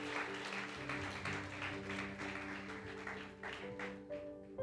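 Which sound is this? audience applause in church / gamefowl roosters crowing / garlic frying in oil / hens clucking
audience applause in church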